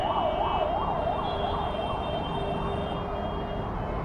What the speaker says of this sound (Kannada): ಸೊ ಆಂಬ್ಯುಲೆನ್ಸ್ ಸ್ಟ್ರೈಟ್ ಹೋಗ್ತಿದೆ